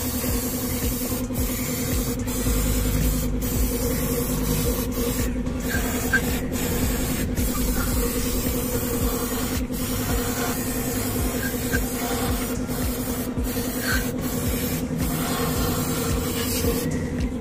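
A continuous hiss of cleaner being sprayed over the body of a Nissan Roox car, steady and close for the whole stretch, broken by faint sharp ticks and with no speech.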